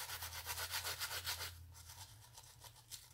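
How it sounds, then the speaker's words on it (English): A toothbrush scrubs baby powder off the sticky adhesive surface of a diamond painting, giving steady, close rapid bristle rubbing strokes that stop partway through, leaving quieter scattered brushing and handling. "get the powder off the toothbrush."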